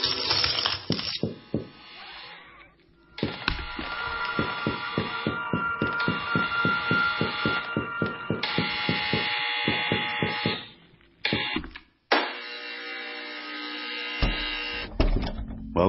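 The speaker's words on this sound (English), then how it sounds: "Quick, follow the buzzer." A buzzer in the Papa Sangre 2 audio game drones loudly and steadily with rapid rattling pulses for several seconds, breaking off briefly near the end and then resuming, with no voices.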